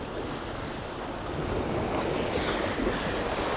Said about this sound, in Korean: 상황이 이렇게 바람이 불고 하니까